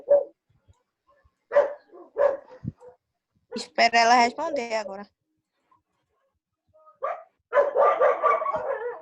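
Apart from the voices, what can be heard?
dogs barking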